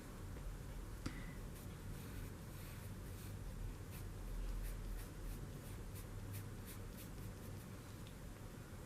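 Pencil scratching across paper while drawing a fish, a steady faint scribbling texture with short strokes over quiet room hiss.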